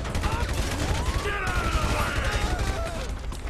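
Rapid gunfire and crashing impacts in GTA 5, a dense, continuous barrage that stays loud throughout, with a voice talking over the shooting.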